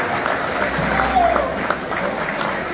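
A crowd at a live event claps together in a steady, dense round of applause, loud and close throughout the short stretch, with a faint voice underneath.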